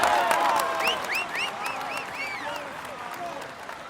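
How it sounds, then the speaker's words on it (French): Crowd applause at the Tour de France 2016 podium ceremony in a cycling video game, a continuous dense clapping bed with repeated arching, whistle-like chirps layered over it, gradually easing in loudness. "on l'applaudit bien fort"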